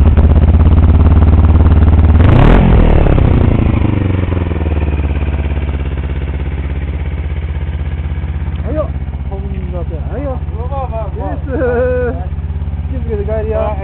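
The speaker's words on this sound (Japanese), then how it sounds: "エンジン音聞かして。" A 1977 Suzuki GR80 motorcycle engine idling steadily and close throughout, with a brief louder burst near the start, while people talk over it in the second half.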